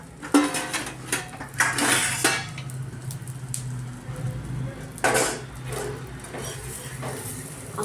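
Kitchen pan clatter and utensil clinks while an omelette is fried and flipped for a Sunday breakfast, with a soft sizzle underneath and scrape-and-tap bursts coming at uneven moments, close and moderately loud.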